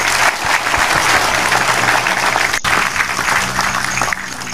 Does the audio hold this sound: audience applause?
yes